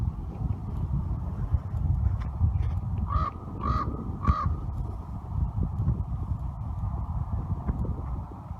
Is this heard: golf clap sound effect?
no